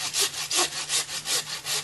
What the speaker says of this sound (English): then you can make your cut, and you want to make a nice clean cut.